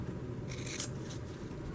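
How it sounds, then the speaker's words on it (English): Scissors snip through paper while cutting flower petals for a floribunda-rose-style paper flower, giving two or three short, crisp cutting bursts close by over a steady low background. "getting your scissors. You're going to cut in the middle"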